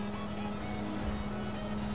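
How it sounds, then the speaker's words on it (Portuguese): A car engine in modded GTA 5 drones steadily, with a constant whining tone that sounds like a turbo spooling, loud and continuous throughout. "Olha o som da turbina."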